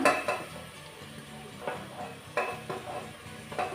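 Mixed vegetables for veg pulao, including beans, fresh peas, potato, mint and coriander, being stirred in a pot, with repeated scraping and clinking of a metal spoon against the pot in uneven bursts, close and moderately loud.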